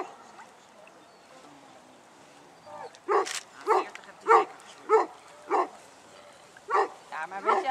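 A dog barks repeatedly in a steady series of sharp, close barks, starting after a few seconds of quiet background.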